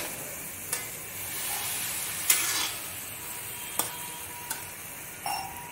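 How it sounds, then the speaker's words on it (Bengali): Sukto vegetables are stirred slowly with a little milk in a pan, giving a soft continuous sizzle broken by a few sharp scrapes and clicks of the spoon against the metal, with no voices. "সামান্য দুধ দিয়ে এটা মিক্স করে নিচ্ছি ধীরে ধীরে মিক্স করতে হবে"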